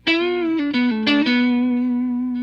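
A sustained electric guitar note through a Keeley Monterey pedal's rotary effect with depth turned all the way down, swirling and wavering, a few quick notes at the start before it rings out and slowly fades.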